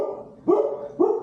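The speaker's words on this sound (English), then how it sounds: "Stop that barking." Dog barking twice in quick succession, loud and close, each bark sharp and slightly sustained, with no one talking over them.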